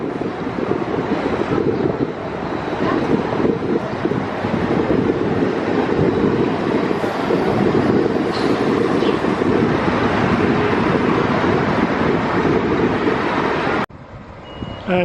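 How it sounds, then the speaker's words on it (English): A Romanian local train shunting along a platform at Brasov railway station gives a steady, loud rumble of engine and wheels with wind noise, continuing throughout before cutting off abruptly near the end. "The local train. I don't think it's departing, I just think it's moving up this platform a bit."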